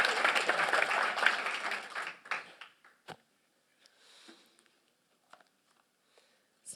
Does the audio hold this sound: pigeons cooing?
no